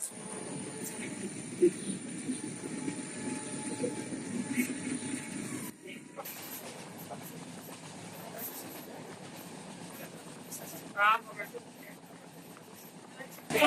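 A train at Nandurbar railway station gives a steady, loud rumble with a brief drop in the middle, and voices murmur in the background.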